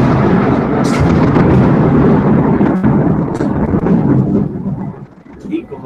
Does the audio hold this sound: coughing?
no